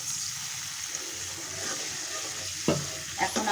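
Masala paste being stir-fried in oil in a pan for a chapila fish and eggplant curry: a soft, continuous sizzle, with a few sharp spatula scrapes toward the end and no talking.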